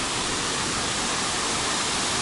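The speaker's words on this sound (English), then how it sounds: "Wow, that's quite a bit of water flowing." Water rushes over a waterfall on the Reedy River, a loud, steady, close roar of broadband noise without a break and with no voices.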